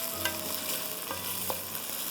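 Chicken stir-frying in a pan for Schezwan chow mein makes a continuous soft sizzle close by, with a few light scrapes and taps from the spatula as it is tossed. No one speaks.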